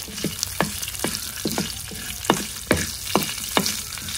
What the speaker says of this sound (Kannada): ಫ್ರೈ ಮಾಡಬೇಕು. ಈ ಥರ 1 ನಿಮಿಷ ಈ ಥರ ನೀರುಳ್ಳಿ ಕಾಯಿ ಮೆಣಸೆಲ್ಲ